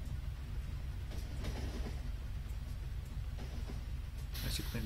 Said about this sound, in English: This is one busy train network.